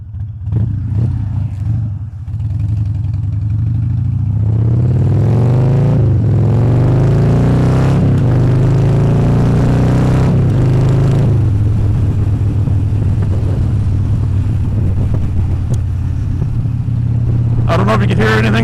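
Loud motorcycle engine throbbing and revving close by, its pitch rising and falling through acceleration with steady wind noise, while a rider talks over it in places.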